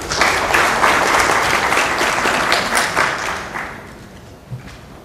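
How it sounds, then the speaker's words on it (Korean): Audience applause at a dental implant lecture hall, dense steady clapping from a crowd that fades toward the end with a single thump near the close. "박수 부탁드리겠습니다"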